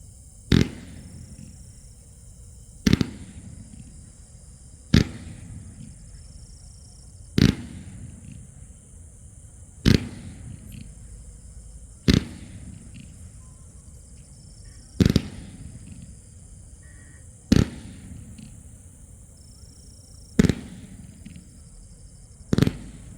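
A Vanitha Fireworks Lazer Purple 5x10 fan cake fires at a steady rhythm, giving about ten sharp, loud pops spaced roughly two seconds apart, each followed by a brief fizzing hiss, with no talk.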